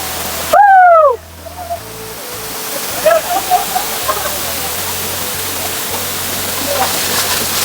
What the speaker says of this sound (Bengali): এটাই সে ভাইরাল ঝর্ণা।